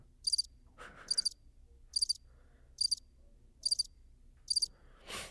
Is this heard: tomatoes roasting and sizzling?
no